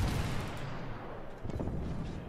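Naval gunfire from enemy ships in World of Warships lands as dense, booming blasts, a heavy rumbling volley that fades slightly and then surges again, with no talking over it.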